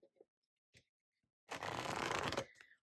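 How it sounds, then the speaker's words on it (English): A deck of oracle cards is shuffled in one quick riffling burst of about a second, close and crisp, after a few soft taps and handling noises in an otherwise quiet room. "you can shuffle any way you like"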